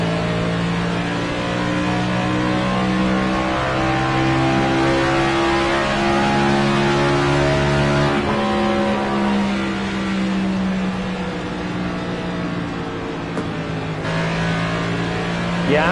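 A race car engine in the NASCAR 25 game holds at full throttle with a loud, sustained, buzzing drone whose pitch shifts slightly as the car runs. The engine plays alone and steady the whole time.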